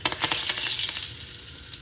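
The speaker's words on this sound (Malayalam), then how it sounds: "കടുക് പൊട്ടിക്കഴിഞ്ഞാൽ അതിലേക്ക് ഒരു പിടി കറിവേപ്പില ഇടാം" A loud, close crackling sizzle of curry leaves hitting hot oil after mustard seeds, with quick popping bursts that settle into a steady hiss.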